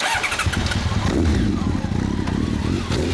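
A Honda CBR1100XX Super Blackbird motorcycle engine roars loudly up close, revving with a rough, throaty clatter.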